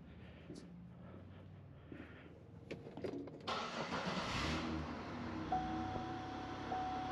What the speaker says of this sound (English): So let's go start the car.